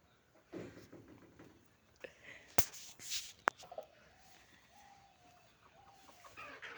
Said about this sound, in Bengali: এখন আমার সঙ্গে হাঁস মুরগি তো আবার কথা বলতে আছে আপনাদের সঙ্গে